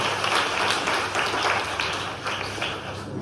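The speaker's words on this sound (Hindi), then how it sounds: "ताली बजाकर परमेश्वर का धन्यवाद करेंगे" A church congregation claps together in thanks for new drums, a dense and steady wash of many hands that continues without a break.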